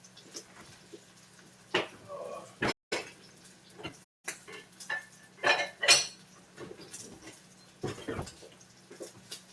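Par-cooked dumplings (varenyky) being seared and shifted around a pan, giving scattered scrapes, light clinks and soft knocks, fairly quiet with brief gaps of near silence.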